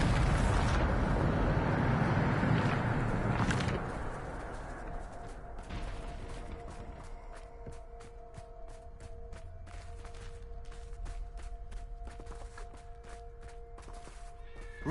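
A Bombarda blasting spell goes off in Hogwarts Legacy, a loud, broad explosive burst filling the first few seconds before fading into quieter ambient game sound with a steady tonal hum.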